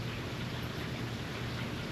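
Steady rain falls on a wet day, a dense, even hiss of drops with no breaks and no voices, holding level throughout.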